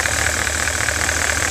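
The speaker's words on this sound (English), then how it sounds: "just regular idling truck" A truck engine converted to compressed natural gas with a sequential injection kit idles steadily and evenly, close up and alone, with a smooth, unbroken hum.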